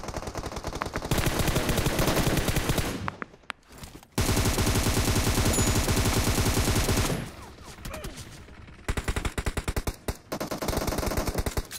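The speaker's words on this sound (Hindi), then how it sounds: "मेरे को राइट हैंड साइड से गन की साउंड आती है" Bursts of automatic gunfire from the right side in the PUBG battle game, loud, rapid and repeated in long volleys with short gaps between them, with no voices over it.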